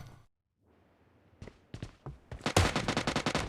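Gunfire in a shooter video game team deathmatch, with scattered single shots that build into rapid, loud automatic bursts close up.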